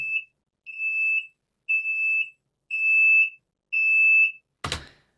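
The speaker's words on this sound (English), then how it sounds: "The example in RX9, which is the door warning loop" Door warning loop of an SBB RABe 523 train in Train Sim World 2, five evenly spaced high electronic beeps of about half a second each, followed by a short thunk, clear and isolated.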